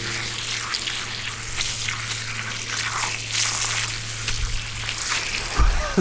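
Running water splashes and trickles at a sink while spray chalk is washed off skin, a steady close hiss of flow with occasional soft squishy rubbing and no talk.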